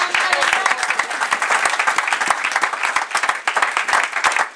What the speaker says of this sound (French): Oh, acclamez le Seigneur, acclamez le Seigneur.